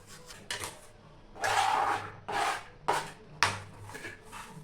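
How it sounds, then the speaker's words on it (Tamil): Two large onions sliced thinly lengthwise with a knife, a series of close, uneven cutting strokes and board knocks, some longer drawn slices between quieter pauses. "இப்போ நான் 2 பெரிய வெங்காயம் எடுத்திருக்கேன். அதை நான் நீல வாக்கில் சைஸாக மெலிசாக வெட்டி எடுத்துக்கிறேன்."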